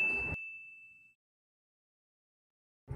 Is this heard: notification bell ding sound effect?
yes